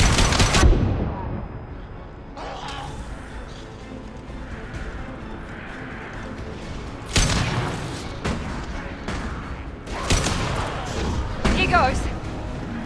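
Gunfire in the Mass Effect video game, a few sharp broadband bursts spread across the stretch, moderately loud over a constant busy game background with other effects.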